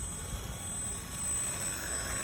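Small light airplane taxiing toward the terminal, its engine holding a steady, moderately loud droning hum throughout with no voices.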